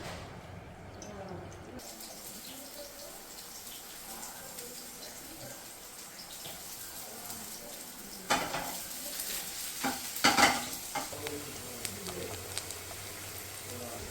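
Hot oil sizzling in a pan as spices are tempered for yakhni, a soft steady crackle with a few louder bursts of spattering and clinks midway.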